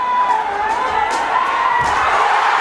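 At a sepaktakraw World Cup match in Bihar, India, the arena crowd cheers and shouts loudly and continuously after a point is won.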